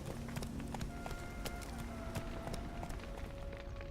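Horse hooves clip-clopping in a steady trot from the horse Roach in the video game The Witcher 3, a continuous rhythmic patter of hoofbeats over ambient game sound and faint tonal music.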